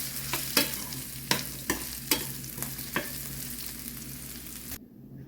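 Onion frying in a pan over a low flame for green peas masala sambar, a close steady sizzle with repeated scraping stirs and spatula knocks, then it stops abruptly near the end.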